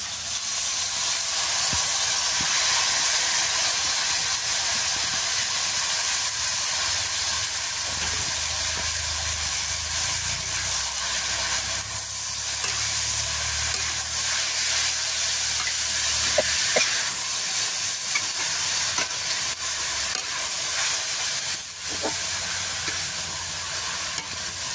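Onion and chili frying in a pan give off a steady, close, bright sizzle and hiss that runs throughout, with a few faint stirring clicks and no talking.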